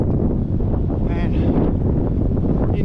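Steady, loud wind buffeting the microphone while cycling into a strong easterly on Rottnest Island, a continuous roar with no pauses.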